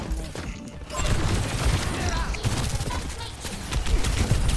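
Sojourn's rapid weapon fire in Overwatch comes in dense bursts, with clattering gameplay effects around it.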